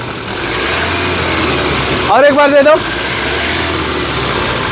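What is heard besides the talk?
Toyota Innova Crysta 2.4 diesel engine revving and idling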